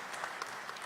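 Brief congregation applause during a Sunday Mass homily, a short burst of soft, scattered clapping from the pews, quiet and somewhat distant, with no speech over it.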